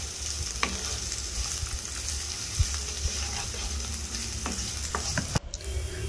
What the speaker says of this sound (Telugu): ఉల్లిపాయ, పచ్చిమిర్చి ముక్కల్ని కూడా ఆయిల్లోకి వేసేసుకొని ఉల్లిపాయలు బాగా ఫ్రై అయ్యేంత వరకు వేపుకోవాలి